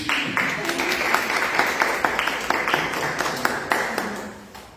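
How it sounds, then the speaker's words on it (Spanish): Audience applause at a poetry book presentation, a steady wash of clapping that carries through the whole stretch with scattered louder claps, moderately near and without speech over it. "Aplausos."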